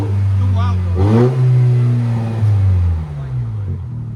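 A 2026 Toyota Tacoma with a 2.4L turbo engine and straight-pipe exhaust revs up loudly and close in one rising, droning sweep, then drops back toward idle, with voices talking briefly over it.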